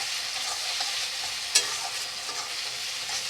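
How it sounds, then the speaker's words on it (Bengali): Half-fried onion sizzling in a pan with a spoonful of garlic paste for mutton curry, a steady hiss with light stirring scrapes and one sharp clink midway, no voices. "পেঁয়াজটা হাফ ভাজা হয়ে গেছে এখন আমি এক চামচ রসুন বাটা দিয়ে দিলাম"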